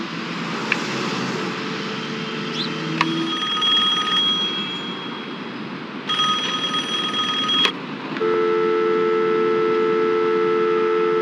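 A telephone rings in the PlayStation game Driver, its electronic tones starting and stopping in repeated bursts over a steady engine-like drone, with no speech.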